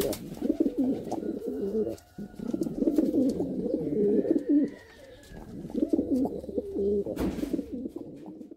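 A pigeon, a record-setting racing bird, coos in low repeated throaty rolls that run almost continuously at close range, with a couple of brief pauses and a sharp click near the end.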